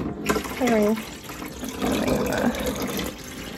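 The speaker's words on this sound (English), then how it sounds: "Need some more filtered water so Danny doesn't have to." Filtered water runs and pours into a container in a kitchen, a steady moderate splashing stream close by, with a person talking briefly over it at the start.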